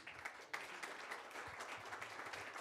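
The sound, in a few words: audience applauding the speaker's welcome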